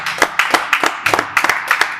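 A worship congregation claps at a brisk, steady rhythm, loud and close, with no talking.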